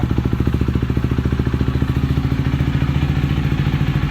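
Husqvarna Svartpilen motorcycle engine with a Fuel X lite installed, a close rapid even thumping idle pulsing steadily, slightly rising in pace.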